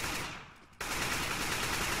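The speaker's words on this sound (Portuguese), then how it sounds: "Tomou um tiro varado aqui." Rapid automatic gunfire in Counter-Strike on the Cache map, a dense continuous rattle of shots that dips briefly and then resumes loud and sustained, with no talk over it.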